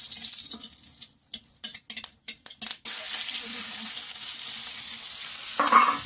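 Dried red chillies drop into hot oil in a kadai and burst into a sudden loud, steady sizzle after a few seconds of scattered clinks and rustles, frying on unbroken without speech.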